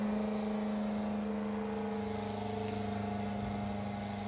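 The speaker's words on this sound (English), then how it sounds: "As we hear the beautiful, almost melodic noise of a Top Fuel Bike coming to life." A Top Fuel drag racing bike at Santa Pod Raceway fires up, its engine settling into a loud, steady, droning idle with strong harmonic tones that hold throughout.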